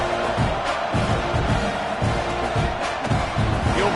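A stadium crowd at a college football video game between Oregon and Texas A&M roars in a constant dense wash, with scattered shouts and thumps rising from the din.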